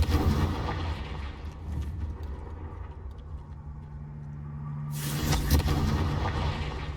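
Confringo spell blast in Hogwarts Legacy inside a cave, a loud booming burst up front that fades into a low rumble, then a second heavy explosive blast near the end.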